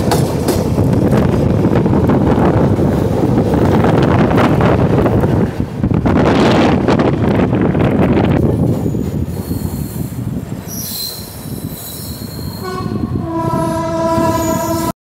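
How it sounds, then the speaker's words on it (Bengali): An express train rushes past close by with a loud roar of wheels and wind buffeting, fading as tonal squeals and a horn-like blare ring out near the end. "বাগ এক্সপ্রেস যাচ্ছে, বাগ এক্সপ্রেস।"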